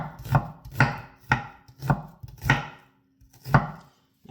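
A knife slices through an onion on a cutting board in six firm, evenly spaced chops, close and crisp, with a short pause before the last cut.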